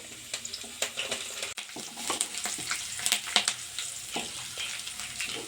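Curry leaves sizzling and crackling in hot oil with garlic for a mushroom pepper gravy, a steady loud fry with scattered pops and spatters close up, plus occasional stirring clinks.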